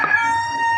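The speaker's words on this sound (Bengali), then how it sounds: "দেখছেন আমার মোরগ ডাকতেছে।" A foreign-breed rooster crows in one long, sustained, fairly loud call that fades slightly toward the end, with no voices present.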